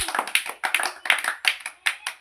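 Schoolchildren in a classroom clap along in time while reciting a multiplication table in song, producing a brisk, even rhythm of sharp group claps, each burst distinct and close, with only faint voices between them.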